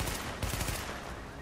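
Rapid gunfire in The Division on Xbox One, a dense burst of automatic shots near and loud, strongest in the first half before trailing into steady rumbling clatter.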